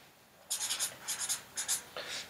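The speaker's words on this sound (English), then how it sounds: "I'm just going to write out the poem here" Pen writing out a poem by hand on paper, a close scratchy scribble in short bursts of strokes with brief pauses between, fairly quiet and alone.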